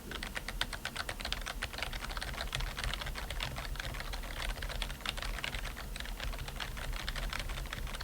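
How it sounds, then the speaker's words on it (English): Steady, rapid typing on a HyperX Alloy Core RGB membrane keyboard gives a dense, continuous patter of soft, muted keystrokes at close range, with no voices. "do a sound test for you so you understand the difference between a membrane and a mechanical. This is the Alloy RGB."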